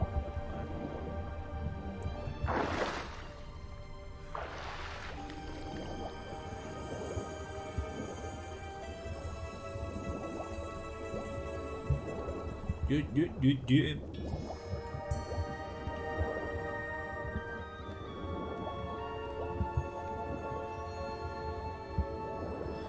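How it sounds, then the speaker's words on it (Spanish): Muffled underwater ambience from The Witcher 3: Blood and Wine, with low rumbling, bubbly drips and liquid gurgles, while a voice talks over it throughout. "Me gustan mucho los sonidos que hay bajo el agua."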